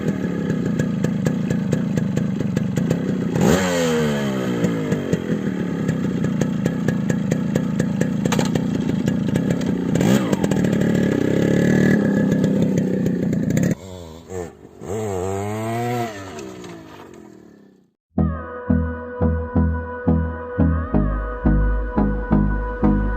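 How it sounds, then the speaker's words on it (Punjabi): A modified Yamaha RX135 two-stroke motorcycle starts and runs close by, its engine revving loud and raspy for about fourteen seconds, then idling unevenly before cutting out, followed by unrelated rhythmic music. "ਆਓ ਤੁਹਾਨੂੰ ਮੈਂ ਹੁਣ ਇਹਨੂੰ ਮੋਟਰਸਾਈਕਲ ਨੂੰ ਸਟਾਰਟ ਕਰਕੇ ਦਿਖਾਣਾ ਤੇ ਇਹਦੀ ਆਵਾਜ਼"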